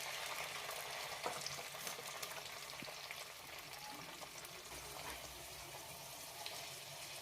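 Peas go into a pan of frying cumin, chopped green chillies and curry leaves, giving a faint continuous sizzle with a few soft clicks and scrapes, quiet and low in level.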